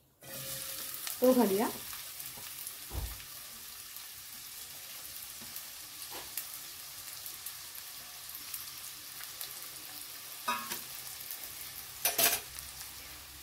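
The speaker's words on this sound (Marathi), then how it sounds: "तेल घेतले आपण भांड्यात आणि त्यामध्ये आता हा आपण बारीक चिरलेला कांदा आहे" Finely chopped onion goes into hot oil in a pan, giving a soft continuous frying hiss with occasional stirring clatters and a brief spoken line near the start.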